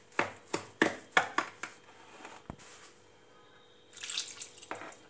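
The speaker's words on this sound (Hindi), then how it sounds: "इसके साथ हम थोड़ा थोड़ा पानी भी ऐड करते जाएंगे" Water is added to semolina batter in a bowl, with a series of quick utensil taps and clinks followed by a brief soft pour or splash, close and quiet.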